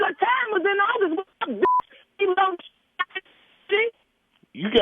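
A short telephone keypad tone beeps once amid lively back-and-forth talk on a radio morning show, brief and clear between the voices.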